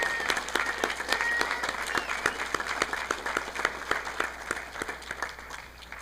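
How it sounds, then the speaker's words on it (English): An audience at a K-8 school promotion ceremony claps in a sustained round of applause, with sharp distinct hand claps over a steady crowd wash that eases off toward the end. "Can we please give them just one more round of applause?"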